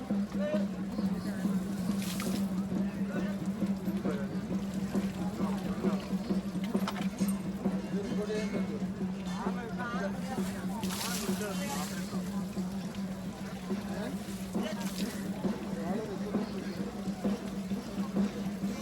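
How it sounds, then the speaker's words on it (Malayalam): A mahout pours water over an elephant bathing at a festival ground, giving a continuous wash of splashing water under a steady low hum and the murmur of a crowd nearby. "ആനപ്പാപ്പാൻ പിറകിൽ നിന്നും വെള്ളം ഒഴിച്ചു കൊടുക്കുന്നു"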